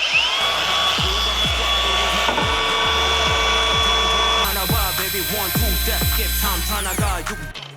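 A cordless GRAND brushless angle grinder runs freely for a vibration and balance check, a loud steady high whine with repeated clicking and knocking underneath, close up.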